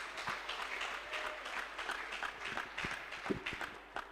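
A church congregation claps hands for Jesus after a healing testimony, a scattered, fairly faint patter of many hands with a few sharper close claps standing out.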